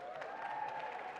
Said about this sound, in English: Let's give a round of applause to Majority Leader Andrea Stewart-Cousins.